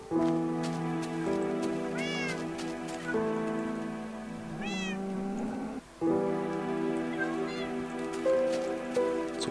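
Several ocelots and cats meowing again and again in Minecraft, the calls rising and falling over a steady patter of in-game rain and a sustained background tone.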